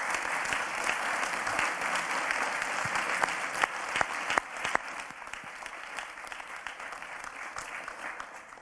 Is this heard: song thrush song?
no